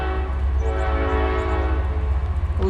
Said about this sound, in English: let me let this train go by